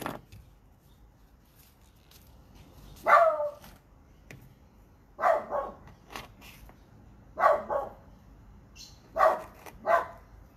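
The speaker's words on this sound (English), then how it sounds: "My dog is so unfriendly." A dog barks in short clusters of two or three yaps every couple of seconds, moderately close but not very loud, with quiet background in between.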